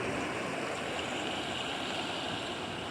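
Steady rushing of Cedar Creek water flowing over rocks at McMahon's Mill, Maryland, a continuous broadband wash with no pauses, fairly close and even throughout.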